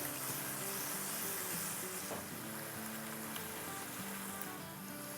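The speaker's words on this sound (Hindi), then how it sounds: "अब इसमें हम डालेंगे आधा कप दही, और इसको भूनेंगे" Yogurt frying in a pot of chicken handi, a dense, even sizzle close by that holds steady throughout with a faint low tone beneath and no talk.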